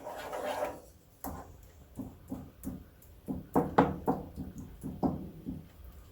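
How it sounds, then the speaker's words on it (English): Spoon stirring a mixture with half a cup of maple bourbon syrup for maple bourbon chicken, producing a run of soft, irregular scraping and knocking strokes against the bowl, close up and alone. "Stir it all together."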